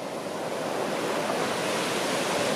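Gentle surf on a Pacific beach in Nayarit, Mexico, a continuous, even wash of mild waves close by, with a slight wind rush.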